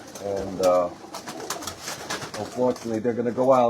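Pigeons coo close by in a loft, rolling throaty calls in repeated bursts that overlap with people talking.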